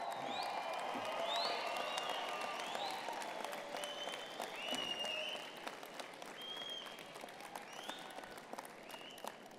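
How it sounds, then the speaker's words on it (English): Large crowd of graduates at a University of Calgary convocation ceremony applauding and cheering their families, a sustained wash of clapping with scattered whoops, shouts and whistles rising over it, easing slightly toward the end. "Wave and cheer, scream, yell, make some noise."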